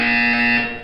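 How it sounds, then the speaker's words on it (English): A loud, harsh electronic buzzer from the test chamber in Portal 2 sounds once for under a second, a steady droning tone that fades slightly at the end. "You will hear a buzzer."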